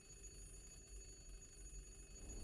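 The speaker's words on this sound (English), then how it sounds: "hello, ringing noises." Ringing noises in the puzzle video game The Room, a steady layered tone like a sustained bell or chime that continues throughout, with a low rumble underneath.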